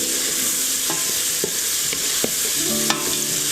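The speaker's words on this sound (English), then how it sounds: "You want to cook the onions until they're translucent." Onions frying in bacon fat in a pan for Southern braised greens, a steady close sizzle with a few sharp scrapes of a spoon stirring through them.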